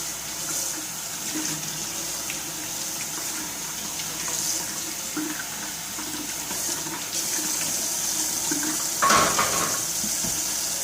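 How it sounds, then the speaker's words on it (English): Tap water runs steadily over a removed part of an Omega VSJ843 vertical slow juicer as it gets a quick rinse, a close continuous splashing stream with a brief louder gush near the end and no talk. "All this ever needs is a quick rinse"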